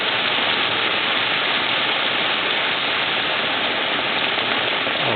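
Heavy rain pours down in California in a steady, loud, dense hiss that stays constant throughout, with no voices.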